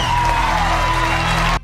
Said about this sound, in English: What awaited him was an overwhelming eruption of cheers and applause